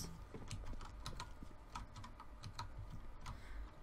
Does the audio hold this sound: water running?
no